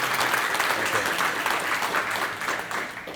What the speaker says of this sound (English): You did not clap loud enough for this lady.